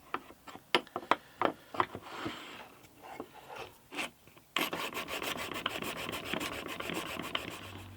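A blade is sharpened on a 1,000 grit stone, first in a string of short, sharp separate strokes, then in a denser run of rapid back-and-forth rasping, close and clear.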